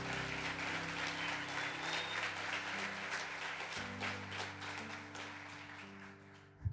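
Church congregation applauding during a worship service, a sustained, fairly distant patter of many hands over a held organ or keyboard chord, fading slightly toward the end.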